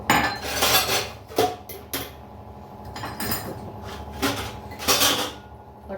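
Metal pots, pans and steel utensils clank and clatter in a home kitchen as they are handled, several sharp bursts of clinking near and loud, with quieter rattling between, no talking.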